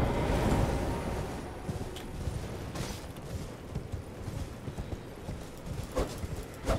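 A horse gallops in the video game Elden Ring, a steady rapid clip-clop of hooves running continuously and fairly loud throughout, with no voices over it.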